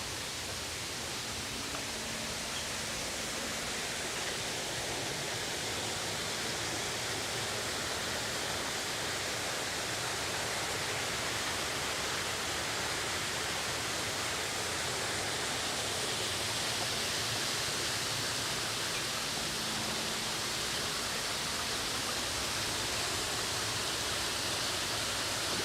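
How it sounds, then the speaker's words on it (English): A Central Park waterfall rushes in a steady, even wash of broadband noise that lasts throughout, fairly distant and soft, with no voices over it. "Can hear the waterfall."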